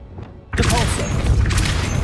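A Depulso spell strikes in the Hogwarts Legacy video game, a sudden heavy booming impact that swells into a loud, sustained rumbling roar, after a brief quiet lead-in.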